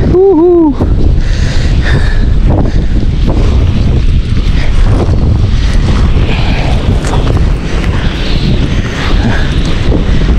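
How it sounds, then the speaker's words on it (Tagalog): Strong, gusting wind roars steadily across the microphone for the whole stretch, with a brief voice at the very start and no pauses in the blustery rush. "Medyo lumalakas na po ang hangin."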